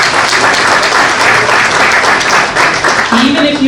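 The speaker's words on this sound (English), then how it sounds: "give yourselves a round of applause for what you were able to do" Loud, dense audience applause at a memorial lecture, many people clapping together at a steady level, with a voice beginning to speak over it toward the end.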